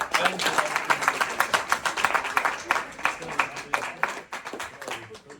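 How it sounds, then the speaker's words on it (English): A crowd claps steadily for a few seconds at a debate event, a dense patter of hands that thins out toward the end. "Please a round of applause for him."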